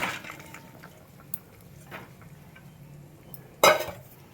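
Cauliflower, small fish and bori go into a pot of bubbling water, with soft clinks, faint simmering and one sharp metallic clatter near the end; quiet throughout, with no talking.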